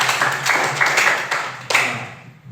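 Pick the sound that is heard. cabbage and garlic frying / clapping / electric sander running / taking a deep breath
clapping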